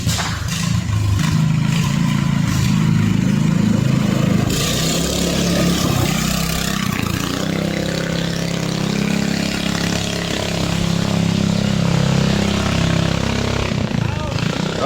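A 420cc go-kart engine runs without a muffler, a loud continuous raw roar with rising and falling revs up close, with voices talking over it.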